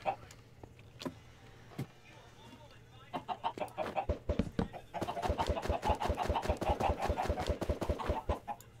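Chickens in the video game Minecraft cluck repeatedly in a dense, rhythmic patter that grows busier and louder in the second half, with scattered sharp clicks and a low steady hum beneath.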